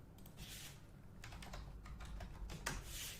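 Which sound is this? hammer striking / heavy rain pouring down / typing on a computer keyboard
typing on a computer keyboard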